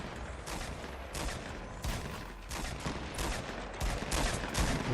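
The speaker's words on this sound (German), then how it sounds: "Wir wurden da geschossen." Gunfire in a Fortnite Battle Royale match: repeated rapid bursts of shots, fairly quiet and distant, cracking out in irregular clusters over several seconds with no talk.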